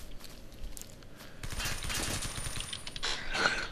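Rapid bursts of AUG rifle fire from Blockade 3D, a video game, crackle steadily for several seconds, growing denser and louder toward the end with no talking.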